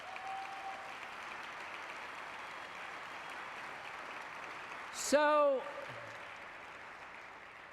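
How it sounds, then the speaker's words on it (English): Steady audience applause fills a graduation ceremony for a college of creative arts, loud and sustained throughout, with a brief spoken word and a short voice near the end rising above the clapping. "yes, that's worth a round of applause, isn't it?"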